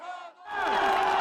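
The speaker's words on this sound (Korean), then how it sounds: "계엄 선포 2시간 35분 만에 결의안이 가결되자 환호성을 지르기도 했습니다." Citizens gathered at the National Assembly in Seoul burst into loud cheering and shouting when a resolution to lift martial law passes. The crowd roar swells in right after a brief, clear single voice.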